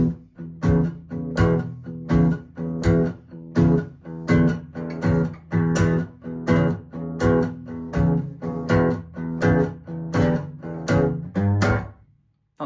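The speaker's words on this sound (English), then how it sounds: "So we are going to look at blues in E," An acoustic guitar plays a strummed 12-bar blues in E with a steady shuffling rhythm of chord hits, loud and close for about twelve seconds before ringing out, with no talking.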